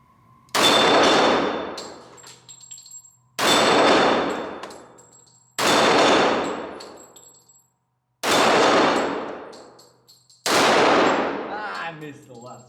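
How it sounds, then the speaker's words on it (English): Five loud pistol shots from a Ruger SR1911, each followed by a ringing clang of steel targets, evenly spaced about every two and a half seconds with long metallic decays between. "so let's do some shooting"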